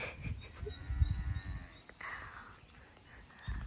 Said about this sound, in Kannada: ನಮ್ಮ ಎಮ್ಮೆ.